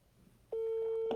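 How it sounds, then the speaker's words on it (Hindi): A phone rings out with a steady, unbroken call tone while a prize winner is being dialed for a lucky draw, faint room noise first, then the loud constant tone filling the rest. "जुनेद साहब अगर फ़ोन उठा लिया तो फॉर्चुनेट इनकी है"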